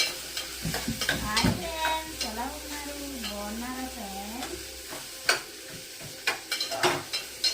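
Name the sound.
tomato pieces and onions frying for semiya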